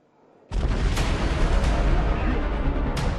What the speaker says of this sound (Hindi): आग का गोला और धमाका।